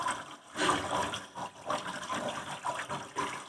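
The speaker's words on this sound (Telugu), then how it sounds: "చేపలు ముందుగా బాగా కడిగి పెట్టుకోవాలి." Raw fish being rinsed in water for frying gives close splashing and swishing sounds, rising and falling in uneven surges with no talking.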